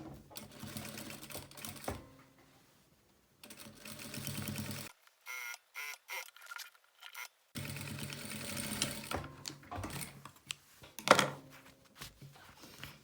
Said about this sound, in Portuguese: agora passa a costura com o pé de máquina